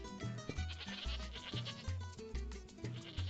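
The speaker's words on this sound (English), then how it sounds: "So we do have some goats" Goats bleating in the video game Tropico, a run of nasal, wavering calls over a steady bed of game music, fairly loud and continuous.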